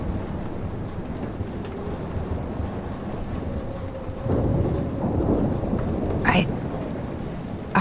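A thunderstorm rages in Life is Strange, with dense roaring rain and a deep rumble that swells louder halfway through, a brief sharp crackle near the end, and speech mixed in.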